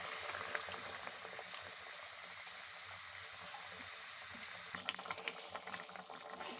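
Fish curry, sweet-and-sour Bengali style with small rohu-type fish, simmering in a pan after tamarind water and hot water go in: a steady low bubbling hiss with faint liquid crackle, close and continuous, no voices.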